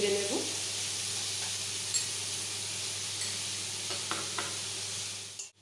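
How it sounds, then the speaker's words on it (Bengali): Chopped onions sizzle in hot oil with a pinch of salt for fried rice while a spatula stirs them. The frying hiss stays steady and close, with a few scraping stirs and light knocks against the pan. "পেঁয়াজটা আমি এবার সামান্য নুন দিয়ে ভেজে নেব।"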